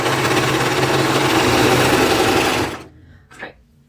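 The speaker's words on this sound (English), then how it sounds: "I'm just going to serge to the end" A serger sewing machine stitches fabric in a loud, steady mechanical whir that runs for about two and a half seconds, then cuts off, leaving a quiet pause with a brief soft sound afterward.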